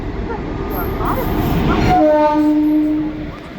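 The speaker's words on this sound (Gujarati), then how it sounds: "આ ટ્રેન તો આવી જાય" A loud rumbling train rolls in with a long steady horn blast near the end, heavy and close, with voices faintly present under the noise.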